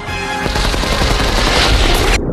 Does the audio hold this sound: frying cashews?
no